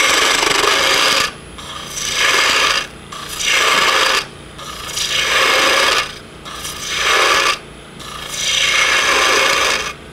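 A lathe gouge hogs wood off a spinning twig pot blank in five long rasping passes, each loud, gritty cut separated by a brief quieter pause, with no talking.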